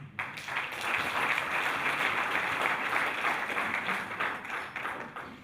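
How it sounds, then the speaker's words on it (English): A crowd of students at a university challenge launch event claps together, a dense, sustained round of applause that swells quickly and holds steady before tapering slightly at the end. "Please give yourself a hand of applause."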